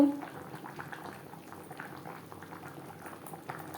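Potato, pointed gourd and soya chunks simmer in a gravy, giving a steady low bubbling that holds for a few seconds at close range, soft and even, with no one talking.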